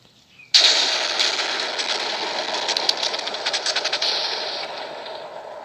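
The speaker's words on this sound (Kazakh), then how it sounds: "Біріншісі найзағай." A lightning strike in Minecraft with a TNT mod hits as a sudden sharp crack out of near silence, then a loud crackling rumble that slowly fades over several seconds.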